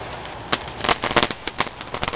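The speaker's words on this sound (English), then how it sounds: "That's a firework right there." A firework tied to a balloon pops and crackles in a quick irregular series of sharp bursts, nearby and moderately loud.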